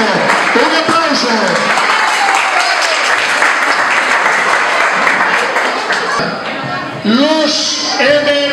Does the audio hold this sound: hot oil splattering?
no